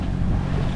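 Sailboat motoring under engine, heading almost straight into a 14-knot wind at 1800 rpm: a steady low engine drone mixed with wind rush and water noise, loud and continuous.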